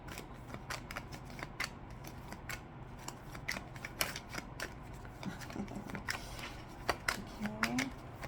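Tarot cards being shuffled during a singles love reading, with quiet, irregular papery riffles and soft snaps repeating close by over a low steady background, and no talk.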